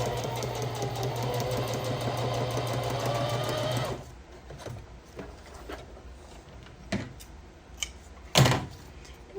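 A Singer heavy-duty sewing machine stitches in a steady, close, loud mechanical whir for about four seconds, then stops, leaving quiet handling clicks and a brief knock near the end.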